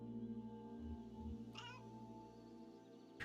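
A cat meows in the video game Kentucky Route Zero: a couple of short, soft mews over a steady hum of game music, then a brief brighter call near the middle.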